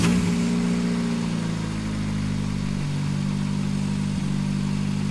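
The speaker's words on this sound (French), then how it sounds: "elle a un peu crachoté au démarrage parce que ça fait un petit bout de temps qu'elle n'a pas roulé" A car engine runs steadily and loudly after a start-up check, following work on the idle air control valve on a car that had sat unused for a while, with a constant low hum and slight unevenness.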